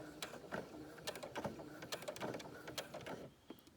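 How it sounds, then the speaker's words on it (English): Sewing machine back stitching across a knit fabric seam for a twisted headband, running in a quick, steady patter of needle strikes at low volume, close and without talk. "Then I'm going to start slowly sewing across this seam."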